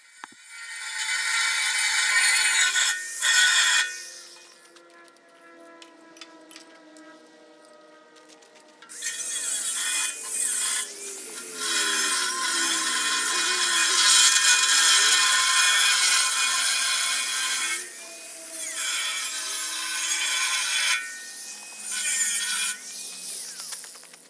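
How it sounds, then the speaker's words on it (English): An angle grinder strips paint off a truck's front bumper down to bare metal before welding, giving a loud, sustained high whine with a short pause partway through, then long continuous grinding runs close by. "just grinding off that paint in order to get down to the bare metal"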